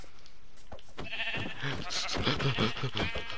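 Sheep bleat in the video game Minecraft, several short overlapping cries that rise from about one second in and carry clearly over a steady game background.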